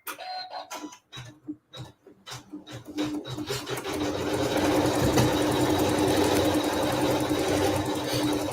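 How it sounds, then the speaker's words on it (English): A sewing machine quilts the centre of a small flower block, first stitching in short separate bursts and then running continuously with a fast, steady mechanical rattle. "this will sew some quilting right in the center of our cute little flower"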